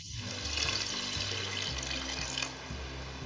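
Water runs steadily into a pan with a constant rushing, splashing sound, close and fairly quiet, with a faint low hum underneath.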